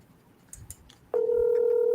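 A telephone on speakerphone: a few quiet dialing blips, then a loud steady ringback tone that starts abruptly and holds close to the end, with no voices.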